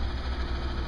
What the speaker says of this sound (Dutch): Dus de motor moet er even bij voor de veiligheid.